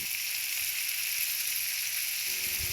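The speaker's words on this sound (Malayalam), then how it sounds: "ഇനി കട്ട് ചെയ്ത് വെച്ചേക്കുന്ന തക്കാളിയും കൂടി ഇട്ട് നന്നായിട്ട് ഇതിനെ മിക്സ് ചെയ്ത് നല്ല വഴറ്റിയെടുക്കണം." Onion, chili and tomato sauté in a hot pan with a steady, loud sizzle of frying that holds even throughout, with a faint stir or clink near the end.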